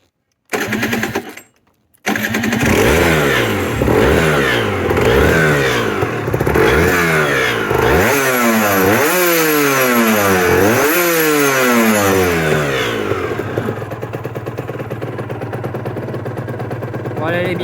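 A 2006 125 RS two-stroke motorcycle with a 34 carburettor coughs to life after a couple of tries, then revs repeatedly in sharp rising and falling blips close by before settling to a steady idle.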